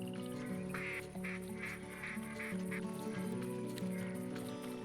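Ducks quacking in the hunting game theHunter Classic, a rapid series of nasal quacks repeating in quick bursts over a steady game background, fairly close and loud, with no talk.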